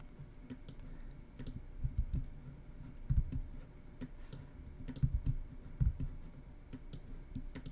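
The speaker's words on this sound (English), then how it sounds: "I'm on my keyboard I'm hitting Alt and either left bracket or right bracket" Computer keyboard keys clicked in scattered bursts, including Alt and bracket keys pressed while working in animation software; quiet, close and fairly irregular, with no talking.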